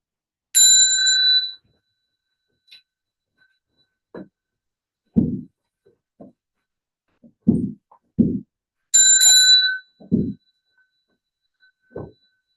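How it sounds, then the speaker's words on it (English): A small bell at a Buddhist Bodhi Day practice session rings twice with a clear, bright ding that fades quickly, separated by several soft thumps and shuffling movements in a quiet room. "when the bell dings we're going to bow one way"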